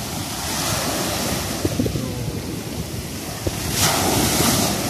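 Sea waves wash continuously onto a seashore while wind buffets the microphone, a steady roar of surf with a brief swell in loudness near the end and no voices.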